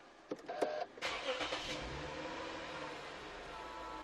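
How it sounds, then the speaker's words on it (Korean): A 2011 imported car starts by push button: a brief clicking whir of the starter, then the engine catches and settles into a low, quiet idle that carries on to the end. "당연히 11년식답게 이렇게 버튼 시동으로 구성되어 있고요 한번 시동 한번 걸어보도록 하겠습니다"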